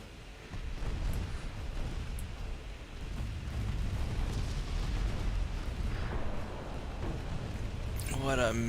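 Warship guns fire in a naval battle in Ultimate Admiral Dreadnoughts, a continuous low rumble of distant booms and blasts layered together, with a voice speaking near the end.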